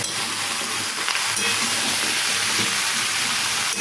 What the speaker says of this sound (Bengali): এইভাবে বেশ কিছুক্ষণ আমি কম আঁচে এটাকে ভাজতে থাকবো, ভালো করে ভেজে নেবো।